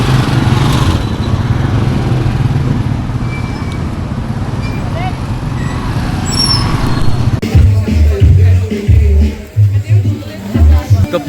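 A motorized tricycle engine drones steadily in El Nido, Palawan, wrapped in street traffic and background crowd chatter, with the sound turning choppier and more uneven toward the end.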